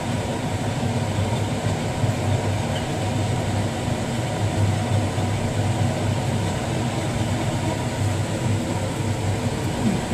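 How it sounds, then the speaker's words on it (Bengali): A kitchen chimney exhaust hood runs while onions fry, giving a steady, loud, even roar of fan and rushing air that holds unchanged throughout with no talk. "এখানে চিমনির আওয়াজটা আসবে"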